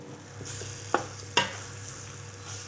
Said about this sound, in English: That's ready now for frying off in the big pan.